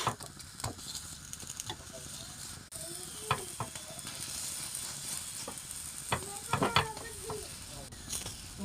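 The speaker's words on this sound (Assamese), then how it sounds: "তাৱাত দি এনেকৈ ভজা লগাই ল'ম। অলপ অলপ চেকি তাৰ ওপৰত ঘি দি দিম।" An aloo paratha fries in ghee on a tawa, giving a close, steady sizzle broken by scattered crackles and soft scraping or pressing sounds, with no speech over it.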